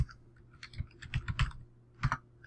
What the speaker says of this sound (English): I'll type in my vision statement